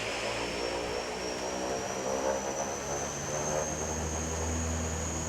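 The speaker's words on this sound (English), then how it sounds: "So now our power's set for takeoff." Air Canada Express Jazz airliner engines spooled up to takeoff power on departure toward Castlegar: a steady, loud propeller and engine roar with a high whine, continuous throughout and heard from inside the aircraft.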